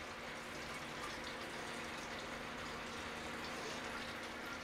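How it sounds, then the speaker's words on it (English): Steady, fairly quiet bubbling and trickling of water in a hydroponic tower in a greenhouse, a continuous gurgle with no talking. "So, the water's bubbling right here."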